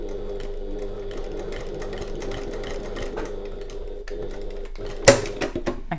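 A sewing machine stitches a zip wristlet in a steady, rapid, close mechanical patter that runs for several seconds, broken by a sharp clack near the end.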